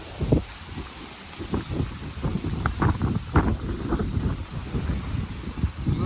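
Strong wind blows on a hilltop near the peak of Ambaragudda, rumbling and buffeting the microphone in uneven gusts for several seconds, loud and close, with no speech.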